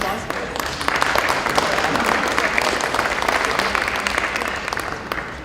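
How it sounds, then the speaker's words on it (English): Audience at an awards and recognition banquet applauds retirees with a dense, steady burst of clapping lasting several seconds, close and fairly loud, without cheering. "So, round of applause for them."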